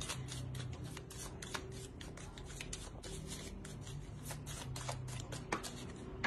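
Tarot cards are shuffled by hand in a quiet room, a soft, rapid run of crisp flicks and rubbing with sharp card snaps spread through it.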